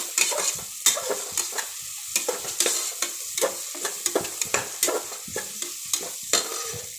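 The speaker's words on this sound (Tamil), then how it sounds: "பச்சை மிளகா, புதினா எல்லாம் போட்டு லைட்டாக வதக்கணும்." Green chilies, onion and mint are stirred and lightly sautéed in oil in a pan for egg biryani, with soft sizzling under repeated scraping strokes of a spoon against the pan.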